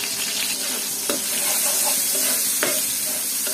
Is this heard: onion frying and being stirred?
yes